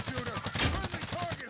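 Rapid gunfire bursts in an online multiplayer shooter match, a steady rattle of repeated shots throughout with a louder blast in the middle, mixed with faint background game sounds.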